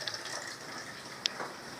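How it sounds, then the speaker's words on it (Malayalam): Water runs from a tap to fill a container, a steady close gushing hiss lasting throughout with one brief sharp click partway through. "ആദ്യം ഇവിടെ വെള്ളം നിറയട്ടെ"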